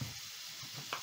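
Breakfast potatoes cook in a pan, giving off a soft, steady sizzle that stays quiet and even for about a second.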